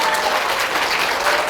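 An indoor audience at a corporate lecture for Salad Master managers claps steadily, a dense wash of applause from many hands that stays even and fairly loud throughout.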